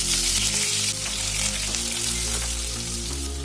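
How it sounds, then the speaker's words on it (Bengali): Chopped onions sizzle in hot oil with whole spices such as bay leaf and mace while cooking chicken tehari, a close, continuous crackling fry heard alone with no voices. "পেঁয়াজটা কিন্তু আমরা বেশি কড়া করে ভাজবো না"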